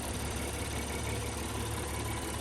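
A 3.5-liter V6 in a 2020 Acura MDX idles quietly, a soft, steady low hum that holds constant throughout with no talk over it.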